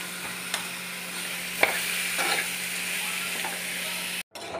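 Boiled potatoes being stirred into masala frying in a pan: a steady sizzle with a few scraping stirs and one sharp knock of the spoon, close and clear, with no talking.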